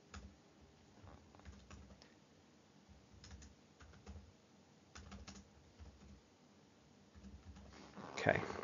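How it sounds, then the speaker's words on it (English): Quiet typing on a laptop keyboard into a notepad, bursts of soft rapid key taps with short pauses, fairly faint, with a brief louder noise near the end. "If you hear me typing, I'm typing into a notepad."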